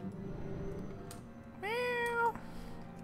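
A single drawn-out cat meow from World of Warcraft: Mists of Pandaria, loud and close, rising over a steady in-game ambience and music bed, lasting under a second before fading back to the background.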